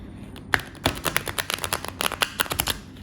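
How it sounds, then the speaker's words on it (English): A fairly new, slightly stiff deck of playing cards is shuffled on a tabletop, giving a quick run of close, crisp riffling snaps and taps. "Should I show you a shuffle? Let's do that."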